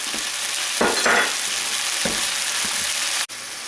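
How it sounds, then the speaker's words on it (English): Steady hissing sizzle of codfish frying in a hot pan, with occasional soft stirring scrapes and no voices. "I'm going to turn the heat off under this codfish that's frying in the pan."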